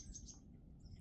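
Small birds chirp faintly in quick, high tweets in woods among pecan trees in West Tennessee, a few short calls over a low, steady outdoor rumble.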